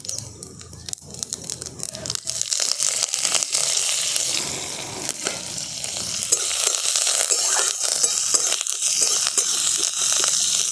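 Curry leaves frying in hot oil with lentils in a pan, giving a loud crackling, spitting sizzle with sharp pops that goes on for about ten seconds.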